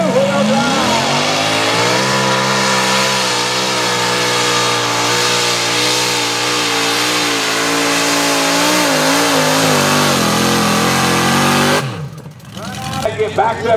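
A two-wheel-drive outlaw pulling truck roars at full throttle, its loud engine climbing in pitch and holding a sustained, heavy howl before cutting off sharply, followed by scattered crowd and track noise.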